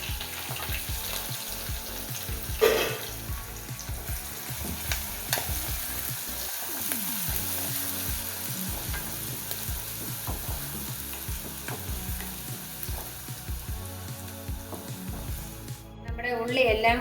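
Onions and mustard seeds, with curry leaves and dried red chillies, sizzle in hot oil as a tempering for an old-style ash gourd curry. The frying hiss is steady and close, broken by scraping stirs and small clatters.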